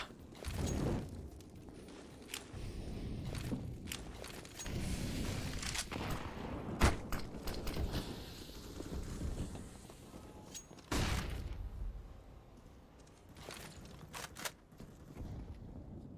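A Counter-Strike match plays out with a grenade blast and scattered bursts of gunfire, fairly faint and distant, alongside footsteps and mechanical clicks.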